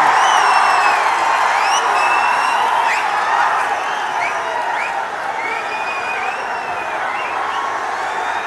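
A large crowd at a BRS political rally for KCR claps and cheers in a steady, dense wash of applause with scattered whistles, continuous and loud, slowly easing off toward the end.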